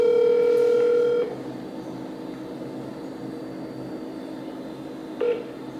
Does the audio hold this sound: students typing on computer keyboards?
no